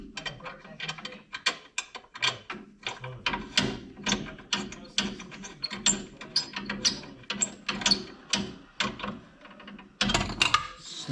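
Socket ratchet clicking in quick, steady bursts while snugging 12 mm bolts on a snowmobile clutch fitted with JBS clutch weights; close, crisp mechanical pawl ticks with brief pauses between runs.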